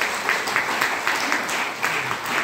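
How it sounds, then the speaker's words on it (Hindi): An audience at a speech event claps in a steady, sustained wash of applause, moderately loud and even throughout, with rhythmic hand claps blending together. "एक बार ताली बजाइए एनर्जी में"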